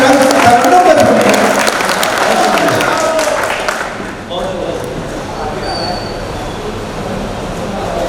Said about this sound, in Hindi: एक बार जोरदार तालियां बजाकर भाई साहब का अपना श्रीराम शरणों में सुनिए।